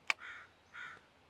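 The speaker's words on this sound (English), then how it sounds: "guess I can't do much about those crows," Crows in a forest giving two drawn-out caws after a short sharp click, faint and somewhat distant in a quiet setting.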